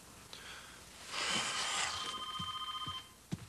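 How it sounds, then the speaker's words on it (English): A telephone rings indoors in a late-1990s family film scene, with a bright warbling trill repeating for a couple of seconds over faint breathing and soft background sounds, followed by a brief click. "The phone is ringing."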